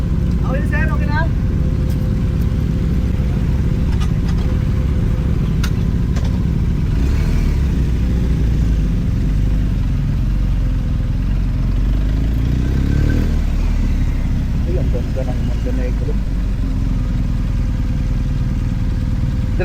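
Big motorcycles rumble at a ferry port in Romblon, Philippines, their steady low engine drone continuous and fairly loud, with scattered clatter and people talking nearby throughout.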